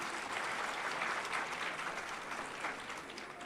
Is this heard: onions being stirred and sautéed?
no